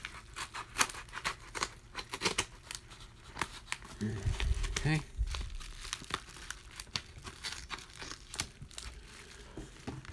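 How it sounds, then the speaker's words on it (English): A paper envelope of baseball cards being opened, with crinkling, tearing and rustling paper in bursts across the clip, close up, and someone speaking briefly at times. "If I can get this envelope open without ripping anything."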